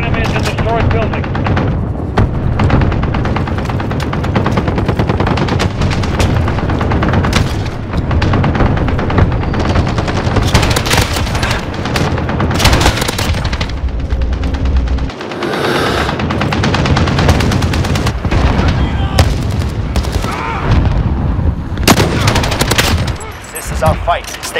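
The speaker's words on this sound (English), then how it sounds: "I'll take the machine gun" A PT machine gun fires in Modern Warfare 2019 in long, loud automatic bursts with booming impacts and explosions. Voices break in from time to time, and a short pause comes midway.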